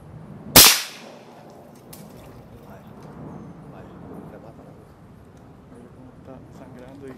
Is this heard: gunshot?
yes